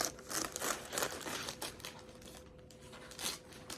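Scissors or a blade slicing open a Hobbii yarn lucky bag, crinkly plastic rustling and crackling in uneven bursts for a few seconds, close to the mic with no talking.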